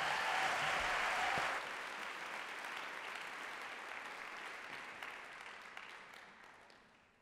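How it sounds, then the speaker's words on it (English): Audience applause for a band at a university Three Minute Thesis event, loudest in the opening second and a half, then thinning into a long, fading patter of clapping. "Give them another clap, everybody."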